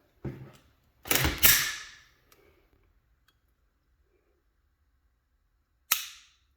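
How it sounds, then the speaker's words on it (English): Sharp mechanical clicks from a Glock 34 Gen 5 pistol's Glock performance trigger: a loud double snap as the trigger breaks, then a single crisp reset click several seconds later, close and isolated. "Right there, same reset, same strong reset that comes with the Glock Performance trigger"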